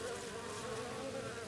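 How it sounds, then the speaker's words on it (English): Honeybees buzz steadily and up close at an observation hive, a dense, continuous drone from many insects that holds level throughout. "they are dragging out the bees,"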